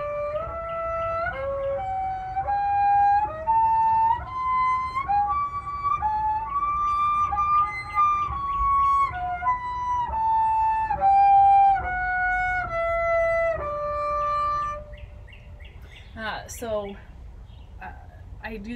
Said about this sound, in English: I'm gonna push my thumb down on D, touch a fourth above my thumb, and do a scale that way